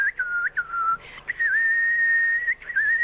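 Someone whistles in imitation of a nightingale, a thin, clear, close whistle of short warbling notes with small pitch swoops and one long held tone, alone against quiet.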